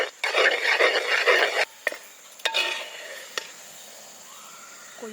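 Guava halwa is stirred with ghee in a pan, giving a thick, scraping sizzle for a couple of seconds, then a few sharp clinks of a utensil against the pan and a quiet bubbling afterward.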